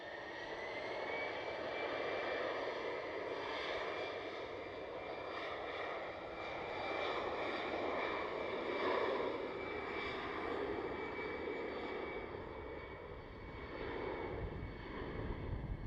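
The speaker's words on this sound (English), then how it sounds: "let's go to this one, to the Paul Johnson, the A319" An Airbus A319 jet takes off at night from runway 36L at Amsterdam Schiphol, a steady, loud, broadband engine roar with a whining tone held throughout, no voices.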